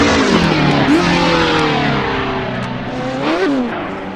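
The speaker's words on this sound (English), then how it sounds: "This car sounds so good on the replays." Porsche race car engine in the Assetto Corsa racing game, loud and continuous, revving up and down with sharp gear-shift pitch jumps around the first and final seconds, holding a steady roar in between.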